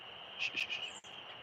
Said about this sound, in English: soon as the sun is going down for real, all the frogs and crickets start singing